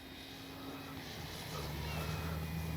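A radio-controlled F4U Corsair warbird model on its takeoff run, the engine droning steadily and growing a little louder as it powers up, heard from a short distance with a low hum underneath.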